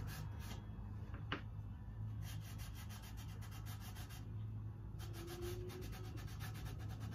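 Finish being rubbed by hand into the wood of a picture frame, heard as soft, repeated brushing strokes, faint and close, over a thin steady background tone.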